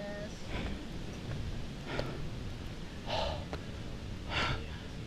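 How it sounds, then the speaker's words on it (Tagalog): Heavy, labored panting from a person resting after a climb, with several loud gasping breath bursts over steady wind-like background noise. "Hingal."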